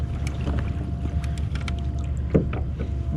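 Kayak being paddled out on the water after a pike release, soft splashes and drips from the paddle strokes over low wind rumble, close and fairly quiet.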